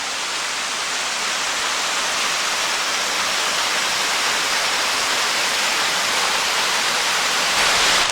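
Scouten Brook Falls, a waterfall beside a steep trail, pours in a steady, dense broadband rush, loud and close, unbroken for the full eight seconds with no voices over it.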